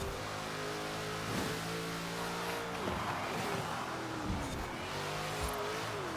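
A Ford Shelby GT500 races in Forza Horizon 4, its engine roaring steadily with repeated upshifts and revs, tires squealing now and then through corners, loud and continuous.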